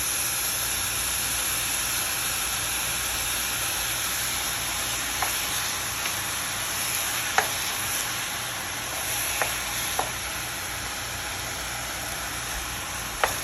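A steady sizzling hiss of chicken stock hitting a hot pot of fried rice, with a few faint clinks and taps scattered through it and no voices.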